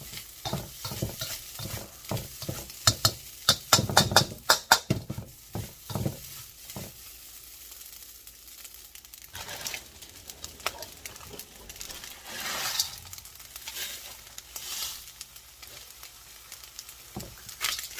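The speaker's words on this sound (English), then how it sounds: "I'm adding the spam now, as I don't really want any colour on there." Spam frying in a pan for Singapore fried rice, with busy rhythmic stirring and scraping over a constant sizzle, loud and close, easing into a softer hiss with occasional clatters.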